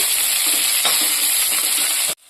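Onion frying in oil with mustard seeds, cumin and curry leaves gives a loud, close, continuous sizzle with faint stirring, cutting off abruptly near the end.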